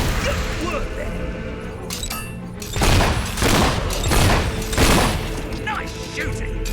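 Bursts of gunfire from the fantasy action game Fable 3, several loud volleys clustered in the middle of the stretch over a busy, noisy game soundscape with voices in the background.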